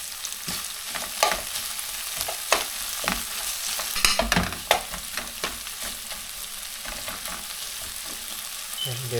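Ginger and garlic frying with softened tomatoes in a pan, a steady close sizzle broken by repeated sharp scrapes and clatters of a spoon stirring against the metal, with no talking.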